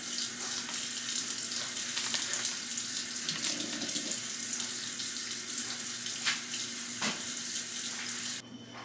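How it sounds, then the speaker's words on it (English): Tap water runs steadily into a pot, a continuous close splashing rush with a slight hollow resonance, ending with a brief clunk. "So I did fill them up with water."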